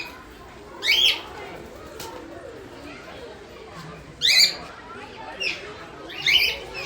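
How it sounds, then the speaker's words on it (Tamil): Parrots, including a cockatiel, kept in a cage at Kurumbapatti Zoo in Salem give four short, sharp squawks at moderate distance, spaced irregularly over a low background murmur. "ஒரு 4 கிளி இருக்குது இந்த கூண்டுக்குள்ளே"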